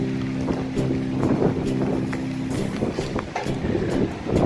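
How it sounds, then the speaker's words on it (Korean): Strong wind blows at the Xiaoyushan viewpoint in Qingdao on a cold, rainy day, a steady, close rush of wind noise with faint tonal sounds underneath. "바람은 좀 엄청 불어요."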